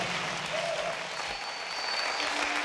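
Audience applause at an event, a steady, dense wash of clapping lasting a few seconds at moderate level with faint background voices and some tonal sounds mixed in.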